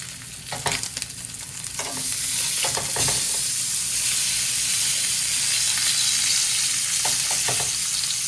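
Pork chops sear in a hot pan, a loud continuous sizzle and hiss with intermittent scraping clicks as they are stirred and turned, no voices.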